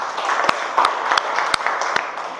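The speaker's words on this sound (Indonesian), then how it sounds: "tepuk tangan untuk pertanyaan dari teman kalian tadi" Students in a classroom give a short round of applause for a classmate's question, with a few distinct claps standing out above a steady wash of clapping hands.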